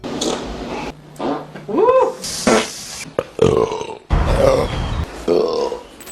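A series of loud, drawn-out burps with croaking, grunting tones, coming one after another over several seconds, close up.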